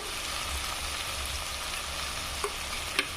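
Ginger being fried and stirred in a pan while preparing a bottle gourd and poppy seed dish, giving a steady soft sizzle throughout with two brief louder clinks near the end and no talking.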